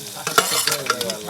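Mashed crab paste fries gently in oil with a steady sizzle, broken by stirring scrapes and clinks, close up, with no voices.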